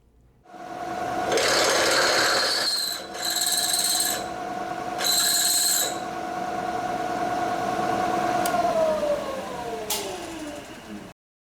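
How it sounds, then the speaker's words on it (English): A power drill whirs loudly drilling a 7/16 inch hole in metal, bursts of grinding cutting noise rising and pausing, then the motor winds down to silence. "So now I can drill the 7/16 hole for the bolt."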